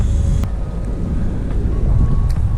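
Ferry ride to Palm Island in Dubai, a loud, continuous rush of wind and engine rumble with water noise and a few faint knocks, with no talking.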